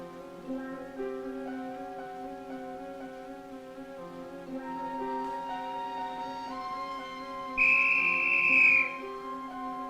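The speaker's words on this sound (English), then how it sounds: "You know what you can do with that whistle?" A sharp, high whistle blast rings out for about a second over a steady bed of layered tonal music.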